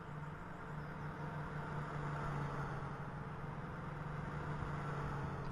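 Simulated AI race cars circle the Thruxton circuit in Microsoft Flight Simulator, giving a steady engine drone with a constant low hum, continuous and fairly even in loudness with no talking.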